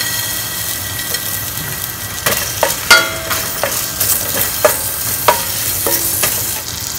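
Ginger stir-frying in a teaspoon of hot olive oil in a pot, a steady sizzle broken by repeated sharp scrapes and clinks of a utensil stirring against the pot, close and alone.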